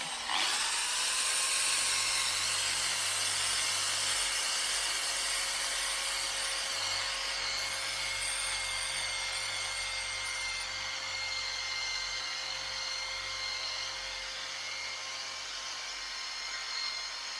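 A car buffing machine whirs steadily while polishing paint, giving a constant close motor hum with a high whine and a soft rubbing texture.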